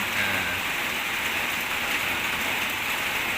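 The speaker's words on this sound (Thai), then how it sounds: "พามาชมบรรยากาศตอนเช้านะฝนตกนะครับ" Steady morning rain that has kept falling since the small hours, a dense, even wash of drops pattering on surfaces throughout, with no voices and no pauses.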